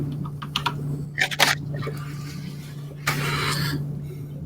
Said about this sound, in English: They're typing in their numbers.